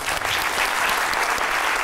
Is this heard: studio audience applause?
yes